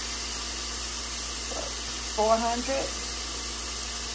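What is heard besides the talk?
pork chops sizzling on a Hot Shot indoor grill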